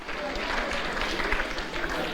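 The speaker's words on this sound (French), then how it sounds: "On peut les applaudir quand ils nous rejoignent." Audience applause at an IUT du Mans graduation ceremony, a dense, even clapping from a large hall crowd that continues steadily throughout.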